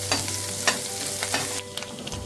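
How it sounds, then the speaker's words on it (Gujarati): Garlic, cumin, ginger and green chillies sizzling in hot oil for a soup base, a steady close frying hiss with a few scrapes and clicks of stirring, no voices. "તેને થોડી વાર સાંતળી લઈશું"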